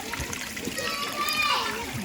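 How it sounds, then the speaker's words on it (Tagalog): Water falls from a small waterfall into a natural pond, a constant splashing trickle heard beneath people talking nearby. "What a falls!"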